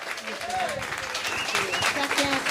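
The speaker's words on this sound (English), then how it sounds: "Give her a round of applause." Audience applause for a speaker at a Chicago event on rhythm, rhyme and resilience, a steady wash of clapping with voices calling and talking over it throughout.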